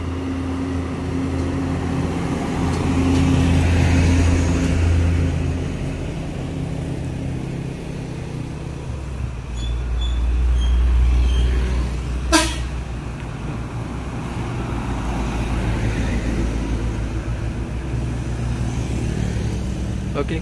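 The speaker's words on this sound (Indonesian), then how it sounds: "Dan ini baru ada melintas beberapa truk ya, yang sepertinya dari arah Riau." Several trucks pass by on a road, heavy engine rumble swelling and fading with a brief horn toot midway, under background voices.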